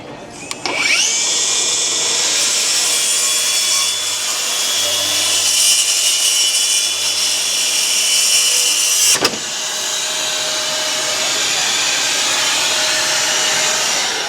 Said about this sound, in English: This is the all-new M18 FUEL 7 1/4 circular saw with 1 key.